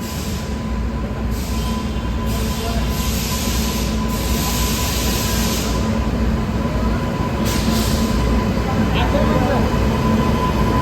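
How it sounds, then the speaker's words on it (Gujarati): A train pulls into a Mumbai station, its loud steady rumble and roar filling the whole stretch with a faint squeal riding on top, while people talk over it. "તો આપણી ટ્રેન આવે છે"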